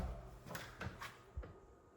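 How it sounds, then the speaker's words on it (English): A building's external exit door fitted with security bolts is pulled shut and lifted, giving a few dull knocks and rattles over about two seconds, close by and moderately quiet, with no talking. "make sure the door is pulled to, but also lifted up like that"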